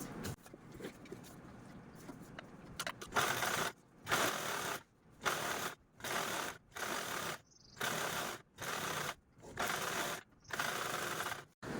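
A sewing machine stitches a zip onto a travel bag in short repeated runs, each a fast mechanical whirring burst separated by brief silences, close and clear.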